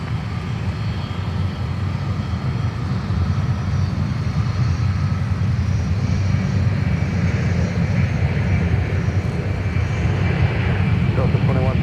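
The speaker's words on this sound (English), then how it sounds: "here's Delta 397 that's now starting its takeoff roll to Fairbanks," A Delta jet airliner starting its takeoff roll at Minneapolis–Saint Paul airport, bound for Fairbanks, Alaska: a loud, steady, building engine roar with broadband rumble throughout, a voice talking over it.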